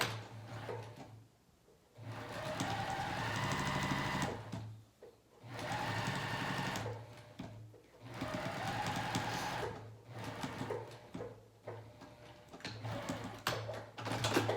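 A home sewing machine stitches pajama pants in several sustained runs separated by short pauses, its motor whirring steadily and close by, with a low constant hum underneath.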